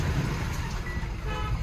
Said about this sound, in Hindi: हॉर्न मारा पीछे से